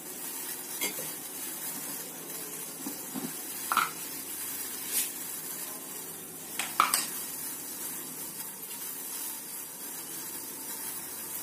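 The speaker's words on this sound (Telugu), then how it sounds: "ఇప్పుడు డికాషన్ మరుగుతుంది కదండి" Tea decoction with cardamom and ginger bubbles in a pot. A steady low simmer runs throughout, broken by a few brief clinks and scrapes of a spoon against the metal, with no voices.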